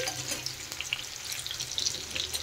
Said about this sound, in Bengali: দেখেন এখানে আলু পটলগুলো বেশ ভালোভাবে ভাজা হচ্ছে।